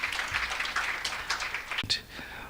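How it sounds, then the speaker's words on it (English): An audience at a university research day gives a short burst of applause, a dense clatter of many hands clapping that fades out after a couple of seconds, with a voice heard briefly under it. "Let's give them a round of applause once more."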